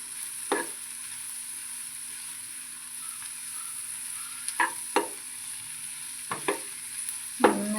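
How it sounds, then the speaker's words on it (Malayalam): Onions sautéing in a pan for a Kerala onion curry, with a soft steady sizzle broken by several sharp stirring scrapes of a spoon against the pan. "നന്നായിട്ടൊന്ന് വഴറ്റിയെടുക്കണം. സവാളയൊക്കെ നല്ല മൂത്ത് വരണം."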